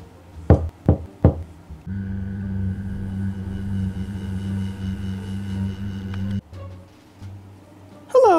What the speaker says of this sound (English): I guess I'll knock.